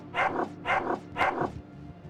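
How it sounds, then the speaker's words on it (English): Three hungry, starved dogs in the game Underrail bark aggressively in quick succession, three loud, close, rough barks spaced about half a second apart, with no speech. "Hungry dogs, yep."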